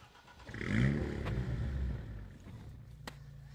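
An Alpine A110 sports car engine cranks and catches, rising to a loud burst of revs around the one-second mark, then settling into a steady, throaty idle close by.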